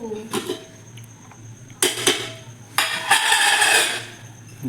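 Cooked rice being added to a pot of homemade biryani and spread with a metal spatula: several separate bursts of scraping and clinking against the pot, with a steady low hum underneath.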